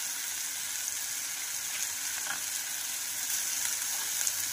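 Mashed brinjal bharit with fresh coriander frying in a pan gives a soft, continuous sizzle, fairly quiet and steady, with a few faint scraping touches and no voices.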